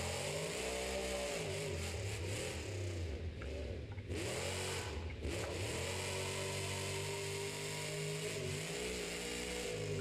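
Devin Winfield's monster truck engine revs loud and close as it rolls onto the track at the Monster Jam World Finals, a continuous roar whose pitch rises and falls with the throttle, dipping briefly twice before surging again.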